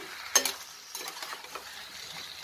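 Spoon stirring yogurt and a little water into a vegetarian jackfruit (echor) curry in a pan, a sharp scrape at first followed by soft, uneven scraping and faint sizzling, fairly quiet and without voices.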